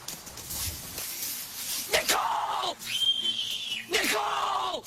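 Woman screaming in a horror film about a killer clown, several loud, piercing cries in bursts over tense background sound.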